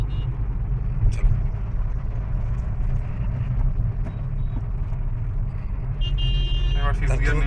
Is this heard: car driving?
yes